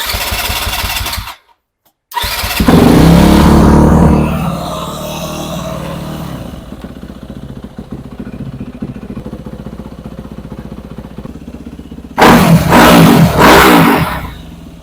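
A motorcycle engine is cranked and started off a Topdon JS1200 lithium jump starter, with a loud roaring burst, a brief cut-out, then a sustained loud run that settles to a lower rumble before revving hard again near the end.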